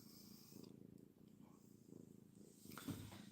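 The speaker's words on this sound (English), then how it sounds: "she's definitely purring" Domestic cat purring softly close by, a continuous low rhythmic rumble pulsing in steady breaths, faint and intimate, with a brief louder stir near the end.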